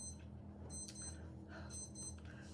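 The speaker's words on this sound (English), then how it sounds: "I have an alarm on my phone. I don't know if you can hear it." A smartwatch alarm going off nearby, a steady repeating electronic beeping pattern that pulses in short bursts at a moderate, fairly faint level over a low background hum.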